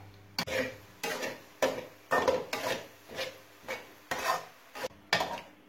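Moong dal halwa being stirred and roasted in a pan over a low flame, a steady run of about nine rhythmic scraping strokes, close and fairly quiet with no talking.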